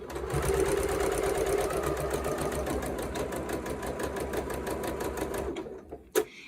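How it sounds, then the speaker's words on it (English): Sewing machine running steadily while stitching fabric for an orange peel quilt block, a fast even mechanical patter that holds close and loud for most of the time before stopping near the end with a couple of small knocks. "And then I go ahead and sew this."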